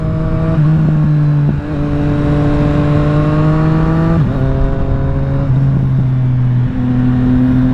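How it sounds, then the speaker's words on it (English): A loud, close 2020 Triumph Street Triple RS motorcycle exhaust drones steadily, its pitch climbing and then dropping sharply a few times as the engine revs and shifts. "I don't know if you guys can hear this exhaust or not"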